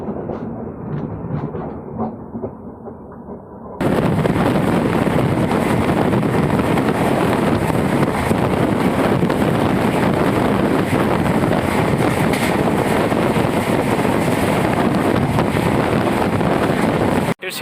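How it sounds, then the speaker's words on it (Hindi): Banaras-Gorakhpur Intercity train overtaking on the adjacent track, a loud, steady broadband roar and rattle of passing coaches that starts abruptly and continues close by throughout. "बनारस गोरखपुर इंटरसिटी जो है हमें ओवरटेक कर रही है।"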